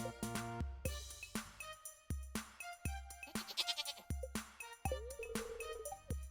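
Goat bleats from Marnie's livestock in the farming video game Stardew Valley, several short bleats in quick succession against bright, tonal game music.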